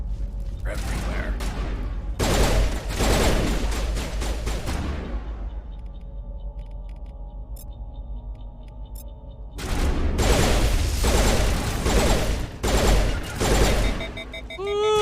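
Pistol gunfire in the video game Call of Duty: Vanguard, rapid loud bursts of shots in two clusters with a quieter gap between them, while someone talks over the action.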